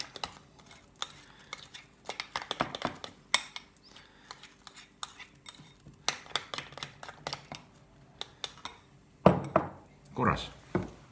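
Spoon clinking and scraping against a bowl as ingredients are stirred together for baked salmon ribs, in uneven bursts of taps and knocks, fairly quiet, with a louder clatter near the end.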